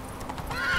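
Roach the horse in The Witcher 3 gives a short, close whinny that rises and brightens toward the end, with light hoof clip-clop underneath.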